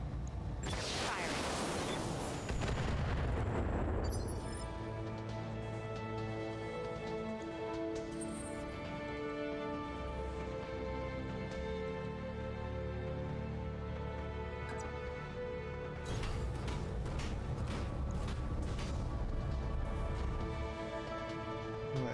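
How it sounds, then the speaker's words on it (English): Heavy mech weapons in the BattleTech video game open up in a long, loud barrage, a roaring blast at the start giving way to sustained droning, tonal weapon fire and a second surge of impacts near the end. "Let's shoot that guy. All weapons committed."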